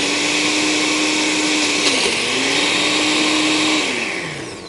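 A Cuisinart SPB-600 blender runs at high speed in a glass jar blending frozen fruit and milk, a loud continuous whir whose pitch dips and recovers before the motor winds down at the end, with no voices.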